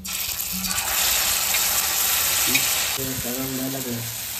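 Onion-tomato paste sizzles and fries steadily in hot oil, a loud continuous hiss with stirring scrapes, while a voice speaks briefly near the end.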